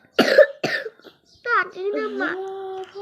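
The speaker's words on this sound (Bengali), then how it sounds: "কাশি সারছে না কেন" Two quick, harsh child coughs come close together, followed by someone speaking.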